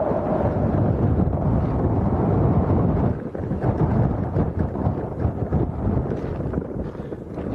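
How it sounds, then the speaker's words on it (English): Strong gusting wind at an airport on Lanzarote batters the microphone with a loud, continuous low roar that surges and eases across the recording. "Sounds windy. It's blowing a gale, mate."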